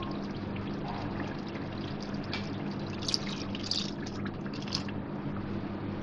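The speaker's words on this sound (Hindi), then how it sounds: "और अब मैं इसमें पानी शामिल करूँगी।" Half a cup of water is poured into a pan of egg korma curry, producing a steady splashing trickle close by for several seconds.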